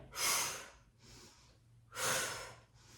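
Deep Pilates breathing during a mat workout, two strong breathy exhales each followed by a softer inhale, close and unhurried with no talk over it.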